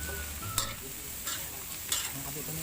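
Kangkong and fried tofu are stir-fried together in a pan, with a constant close sizzle and three distinct scraping strokes of a spatula at regular intervals.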